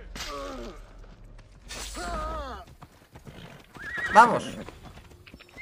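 Horse in Assassin's Creed Odyssey whinnies twice in close succession, then gives a louder neigh with hoof clatter, while someone says a short word between them.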